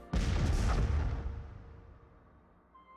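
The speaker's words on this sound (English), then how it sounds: "I'm going to drop the bombs, then I'm going to hit deploy" Bombs dropped on a planet in the Master of Orion strategy game, a single heavy booming blast with a rumbling roar that slowly fades over a few seconds, loud and alone.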